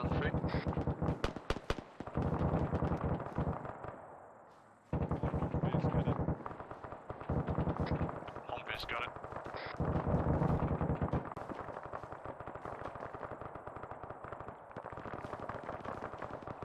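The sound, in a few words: gunfire in a military video game (Arma, UNITAF operation)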